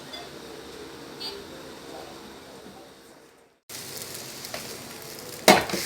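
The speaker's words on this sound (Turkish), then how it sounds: "Evet burada da yufka kızarıyor." Giresun-style yufka flatbread fries in a pan with a steady sizzle that drops out briefly, then returns louder and closer, ending with a short utensil clatter.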